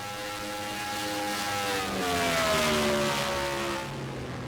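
Race car engine on a qualifying lap at Willow Springs, a sustained, fairly loud drone whose pitch sweeps downward and rises again as the car shifts and passes, with no talk over it.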